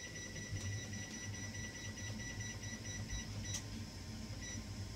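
A kitchen timer set during brownie baking beeps in faint, evenly spaced high electronic tones over a low background hum, with no talking.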